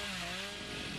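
A chainsaw revs steadily in the video game Dead by Daylight, a continuous buzzing engine drone that holds loud and unbroken for the whole moment with no talk over it.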